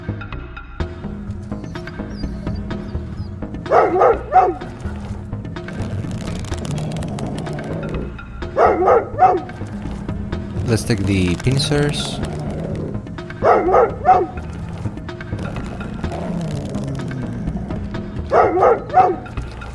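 Short dog barks from a leashed dog in the video game VirtuaVerse, recurring in pairs every few seconds over a game music bed, with someone talking throughout.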